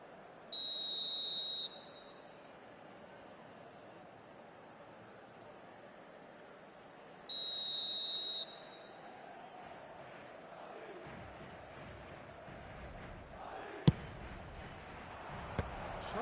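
Two long, shrill referee's whistle blasts from a football video game, Milan versus Liverpool final, each about a second long and several seconds apart, loud over a low murmuring stadium crowd.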